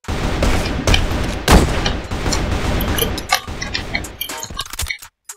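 Gunfire rattles in an online shooter video game: dense bursts of shots and booms, loud and close, with sharp isolated reports trailing off at the end.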